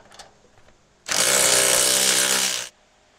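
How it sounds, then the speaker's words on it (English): A power screwdriver drives a screw into a Grasshopper 321D mower deck, one loud whirring burst of about a second and a half, close up, alone. "So I'm just putting the screws in here"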